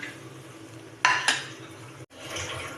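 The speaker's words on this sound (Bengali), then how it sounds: "যেটুকু দরকার তেল সেটুকুর মধ্যেই এই মশলাগুলো সমস্ত দিয়ে দিলাম" Spices are dropped into hot oil in a pan while cooking a bhola fish curry with coriander, giving a soft background sizzle broken by two sharp utensil clanks against the pan.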